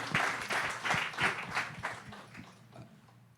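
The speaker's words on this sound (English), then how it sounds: "So let's give a round of applause." Applause from a small audience at a talk event, a loose run of hand claps that is loud at first and then thins and fades out over a few seconds.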